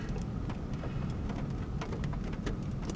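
Steady rain hissing with a low, continuous rumble underneath, like a thunderstorm close by, in the morning in Massachusetts, with no voices.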